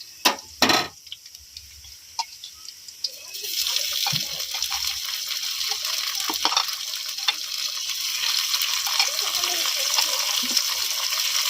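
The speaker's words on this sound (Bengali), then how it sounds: "পেঁয়াজগুলো হালকা ভাজা হয়ে এসেছে, এবার টমেটো কুচি দেবো।" Onions and chopped tomato frying in a pan over a village stove, a steady hiss that swells after a few knocks and stirs, with brief clatters on top.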